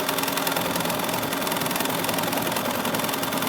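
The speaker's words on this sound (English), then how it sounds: "you're going to let the machine run the quilting" Sewing machine running steadily as it quilts the border of a Kimberbell table topper, a loud close continuous mechanical whir with a fast even needle rhythm and no talk.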